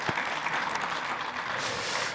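Church meeting congregation at an annual general assembly giving a short burst of steady, dense applause, heard fairly close and alone for about two seconds.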